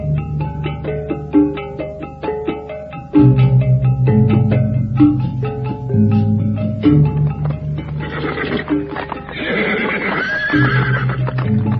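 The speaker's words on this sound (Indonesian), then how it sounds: "Mereka pergi dengan menggunakan 2 kereta kuda, sementara Samara dan Rakeh Jangkung menunggang kuda" Horses pulling carriages whinny loudly over a busy clatter of hooves, with repeated neighs and a rhythmic clip-clop running throughout, close and prominent.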